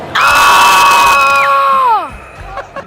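A ball boy for a high school football team lets out one loud, sustained scream on a sideline, holding a steady high pitch for nearly two seconds before it falls away, with faint crowd noise after.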